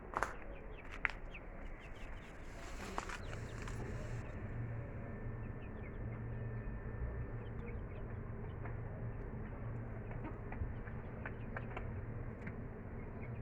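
Chickens in a backyard coop, a leader hen among quiet newcomers, give soft intermittent clucks and short calls over a steady low rumble, with a brief rustle near the start.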